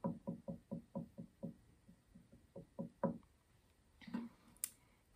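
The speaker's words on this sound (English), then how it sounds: "maybe you can knock quietly on a table or on a wall while you ask God for something" Someone knocks quietly on a table or wall, a run of soft, evenly spaced knocks followed by a few more after a brief gap, faint and close, with light rustling near the end.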